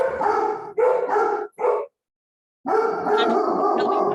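A dog barks and yips in several loud, close bursts, with a short silent gap before a longer stretch of barking.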